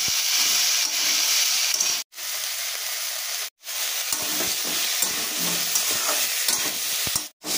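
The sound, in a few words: soybean chunks stir-frying with potato and onion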